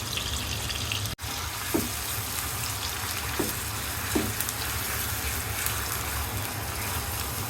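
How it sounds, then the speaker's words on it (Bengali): Blended onion paste fries in a pan for a river prawn bhuna, a soft continuous sizzle with a low hum underneath and a few faint stirring taps. "পেঁয়াজটাকে একটু ভালো করে ভেজে নিব"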